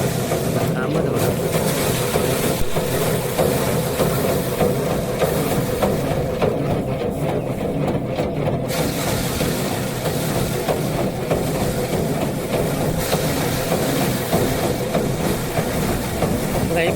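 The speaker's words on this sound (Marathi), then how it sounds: "ही पाय मारूची मशीन आहे इकडे." Foot-pedal paddy threshing machine with no engine, worked in a Konkan field at harvest, running continuously with a rattling whir and rhythmic clatter, while people talk over it.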